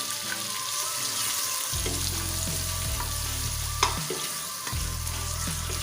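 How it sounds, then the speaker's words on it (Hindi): Sliced onions frying in hot oil for dal gosht sizzle in a steady, close crackle, with a low humming drone cutting in and out beneath and no one speaking. "प्याज को 1 से 2 मिनट गोल्डन ब्राउन होने तक अच्छे से भूनें"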